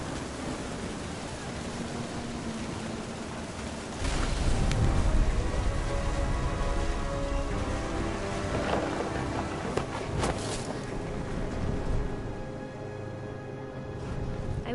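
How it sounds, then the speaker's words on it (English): Rain pours steadily in What Remains of Edith Finch, with rolling thunder swelling close and heavy midway and a few sharper cracks later, all without speech. "The thunder sounded much too close and full of angry power."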